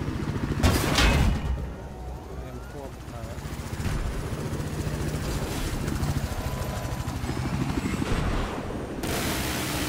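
Helicopter in Battlefield 4 on Golmud Railway, a steady rotor drone with rapid chopping pulses under a voice, with bursts of gunfire and clatter at the start and end.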